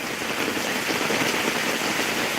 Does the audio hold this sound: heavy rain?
yes